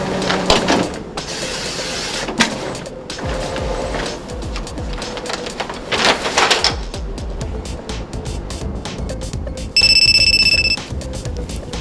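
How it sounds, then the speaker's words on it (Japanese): Printer running with mechanical whirring and shuffling bursts, then a sustained electronic beeping tone near the end, fairly loud and close with no talking. "今度はプリンターか。"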